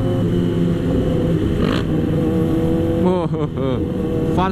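A Yamaha R6 sport motorcycle revs hard on a busy Sunday-morning group ride toward Cawang, its engine loud and close with a steady roar and a couple of quick throttle blips near the end, under wind and traffic noise.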